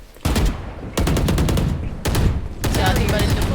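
Rapid automatic gunfire in a Valorant-style tactical shooter, firing in several loud sustained bursts separated by brief pauses, with no voice over it.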